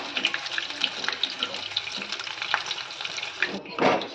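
Mirchi bajji chili fritters frying in hot oil on a cart-style setup give a steady close sizzle and bubbling, with a brief louder splash of crackling near the end.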